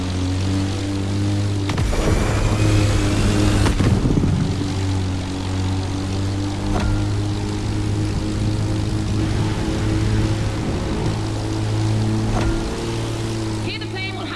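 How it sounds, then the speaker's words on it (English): A propeller airplane races a car in the video game The Crew Motorfest, with a steady droning engine hum, a surge of rushing noise early on, and sustained tonal whine throughout. "Here the plane will have to make very tight turns if it wants to keep up with the AGP"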